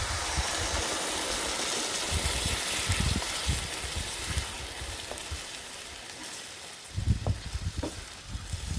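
Onion paste frying with garam masala and spices in a pan for a mild creamy Lucknowi chicken korma, a continuous hissing sizzle with low rumbling bumps and a few stirring knocks.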